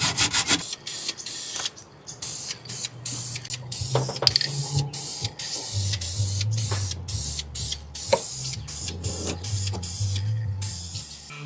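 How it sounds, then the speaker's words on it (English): An aerosol can sprays self-etching primer onto a Subaru body panel during bodywork. Repeated short hissing bursts with brief gaps, up close, over light scraping and handling noise. "I think I need to go ahead and put some self-etching primer on this first, and then start our filler coat"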